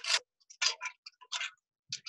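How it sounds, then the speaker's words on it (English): Light jingling and clicking bursts in an irregular rhythm, like small beads and charms tapping together as a dream catcher sways in the air, close and quiet. "I have a dream catcher, and if I hold it up in the air, it sounds like this."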